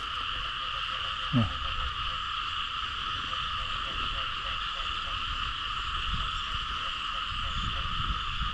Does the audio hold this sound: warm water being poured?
no